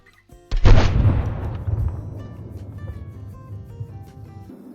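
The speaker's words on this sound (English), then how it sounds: "That should be a solid shot right there." A single rifle shot fired at a mule deer buck outdoors: one sharp, loud, close blast followed by a long rolling echo that fades slowly over several seconds.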